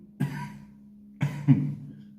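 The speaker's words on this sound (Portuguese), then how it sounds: "peço desculpa aí pela tosse" A man with a cold coughs twice, a short rough cough followed after a pause by a double cough, close and alone.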